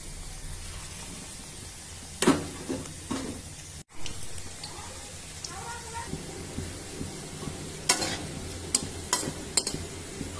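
Pakora stirred and frying in hot oil in a wok, with soft sizzling and sharp scraping clicks of a utensil against the pan at intervals, fairly close.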